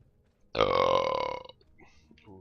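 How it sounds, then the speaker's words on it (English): A single loud, drawn-out burp from a gamer streaming Guild Wars, lasting about a second close to the mic, then fading into quiet room noise with faint murmuring after. "Poor people on the stream hearing me burp."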